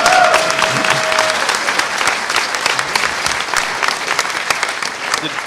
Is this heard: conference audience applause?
yes